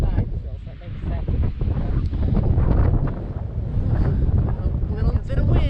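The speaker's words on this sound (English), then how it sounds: "A little bit of wind." Wind on a mountain hiking trail at Mt Israel, loud gusting and buffeting against the microphone throughout, with people talking underneath.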